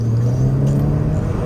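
A modified Hyundai Kona N with an upgraded fuel pump, driving with its exhaust closed: a steady, close engine and exhaust drone with a low humming tone and road noise, and no one talking.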